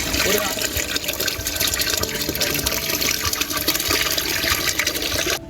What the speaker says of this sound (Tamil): தேவையான அளவு தண்ணி ஊற்றிக்கிறோம்.